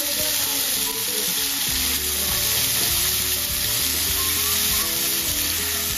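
Chicken pieces fry with salt in a hot pan, giving a steady loud sizzle and occasional stirring scrapes, with no talking.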